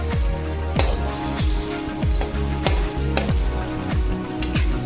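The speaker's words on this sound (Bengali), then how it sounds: "ম্যারিনেট করে রাখা যে বাকি অংশটা ছিল গ্রেভি মতন, সেটাকে আমি এখন দিয়ে দিলাম কড়াইতে।" Marinated chicken pieces with their gravy-like marinade sizzle loudly in a wok, with steady frying hiss and repeated sharp clatters of stirring roughly every half second.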